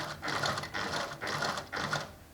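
A sewing machine backstitches to lock the stitches on a seam of men's native trousers: four short, rapid bursts of mechanical chattering, each about half a second long with brief pauses between, close and alone.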